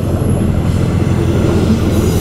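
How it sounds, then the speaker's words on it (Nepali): A train rumbles loudly and continuously past a level crossing near Redcliffe, Brisbane, a steady heavy roar of wheels and wagons heard close by. "अब यहाँ चाहिँ ट्रेन जाँदैछ है"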